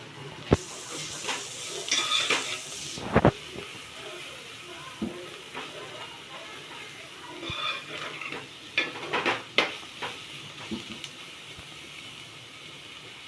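Egg and salt being stirred in a hot pan for an egg roll, a soft sizzle under scattered scraping and clinking strokes of a utensil against the pan, close by, with a burst of hiss near the start.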